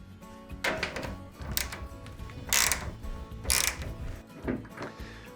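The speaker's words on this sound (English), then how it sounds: "You'll need a spanner or a socket wrench, and the most common size is 10mm, and they undo as you'd expect." A socket wrench turns out the 10mm transit bolts on a washing machine, giving repeated close ratcheting clicks in short bursts with a few dull thunks in between, heard alone without talk.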